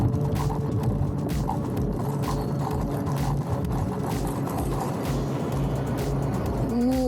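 A Segway-Ninebot MAX G3 electric scooter cruises at a steady speed under cruise control, with a constant motor hum and wind and road rumble sustained throughout, close and loud, ending in a brief rising tone.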